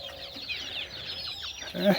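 Young chickens on a small farm in cold weather make soft, scattered clucks over a steady hiss of background noise, ending in a louder, closer cluck.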